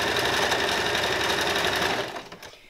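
A sewing machine stitches a tight zigzag on a small jersey fabric sample, running fast and evenly close by, then slowing to a stop.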